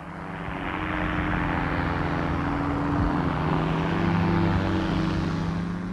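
An Aerochute light aircraft flies overhead with a steady, droning engine hum that swells gently and holds at a constant level, with no voices.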